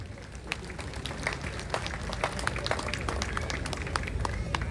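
A crowd applauds at the Maharashtra Shree 2026 bodybuilding prize ceremony in the 70 kg category, dense, steady clapping that carries on at an even level throughout.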